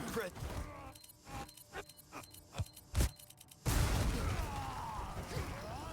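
A grenade in the Resident Evil 4 remake goes off as a sudden loud blast after several sharp, scattered impacts and pops, and the explosion trails into a rumbling wash of debris.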